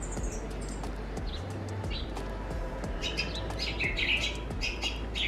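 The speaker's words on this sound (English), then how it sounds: "The birds are chirping." Small birds chirp and tweet in short, high bursts, fairly faint and scattered over a steady background hum, with no talking.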